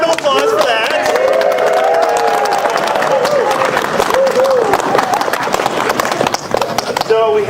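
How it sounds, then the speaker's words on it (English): A crowd claps for tuba players with decorated instruments at a TubaChristmas gathering in Belvidere Square, New Jersey; a busy, fairly loud patter of clapping mixes with voices and sustained tonal notes throughout. "Give a round of applause for that."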